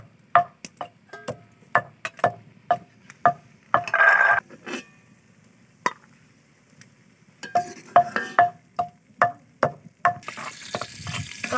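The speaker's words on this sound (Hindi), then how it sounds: "आप देख सकते हैं घी को तड़का लग चुका है" Hot oil sizzles in a pan amid a steady run of sharp metallic taps and stirring clinks, with a louder burst of frying in between.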